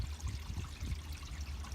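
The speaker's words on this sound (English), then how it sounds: "So, pull this up, and you're gonna see all the water from the poo-poo tank and stuff." Water and waste rush out of an opened black tank valve on a 2016 Coachmen Freedom Express Liberty Edition RV, a steady, fairly faint pouring stream with no talk.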